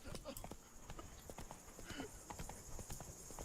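Roach, a horse in The Witcher 3: Blood and Wine, trots with steady clip-clopping hooves, a regular rhythm heard close against a faint background ambience.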